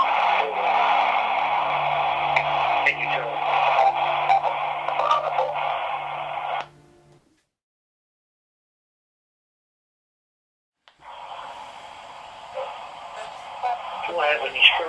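Radio Shack radio hissing white noise static sweeps in a steady band for several seconds, falls silent briefly, then returns, fairly quiet and heard alone.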